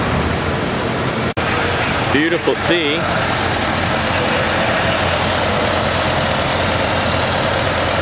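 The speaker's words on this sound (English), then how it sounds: "Smooth little running tractor" International Harvester Power Mule tractor at a Red Power show, a small engine idling smoothly and steadily throughout, with a brief voice and a sharp click partway in.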